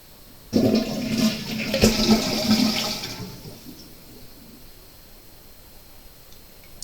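A push-button toilet refills after a flush, with a loud rush of water for about three seconds that then fades to a faint trickle and near silence.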